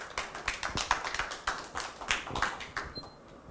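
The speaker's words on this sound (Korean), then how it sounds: "박수로 환영해 주세요." A small lecture audience claps in welcome for a speaker: a modest, uneven patter of individual hands, close and distinct, tapering off toward the end.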